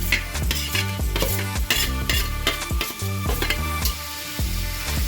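Paneer bhurji frying in a pan while being stirred, with repeated metallic scrapes and clanks of a utensil against the pan over a continuous sizzle, close and busy throughout.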